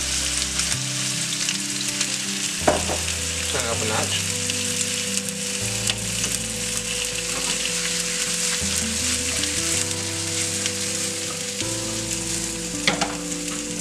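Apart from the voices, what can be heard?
peppers and onions sizzling in pan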